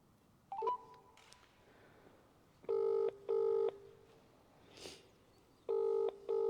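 A telephone call is placed: a few faint button clicks, then two pairs of loud electronic ringback tones, a pause, and another pair of rings, with quiet room noise between.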